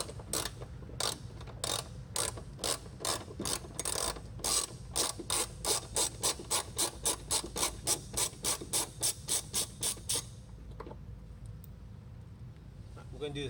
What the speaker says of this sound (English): taking off this bolt right here with a 10mm